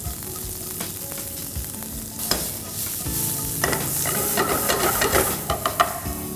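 Chopped onions, cumin seeds and green chilies fry in hot oil in a pan, sizzling loudly with crackling spatters and repeated stirring scrapes that build in intensity, close up and without voices.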